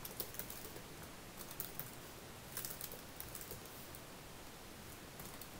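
Faint, quick keystrokes tap on a computer keyboard while HTML code is typed, a soft, irregular clatter with no voices.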